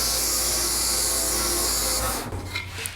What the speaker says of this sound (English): So I'm just gonna use the sander